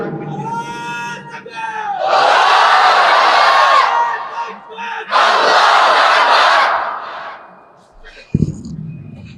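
A large crowd at a Ramadan sermon shouts the takbir in two loud, sustained bursts of massed voices. A single voice calls out before them, and a short thump and quieter sounds follow at the end.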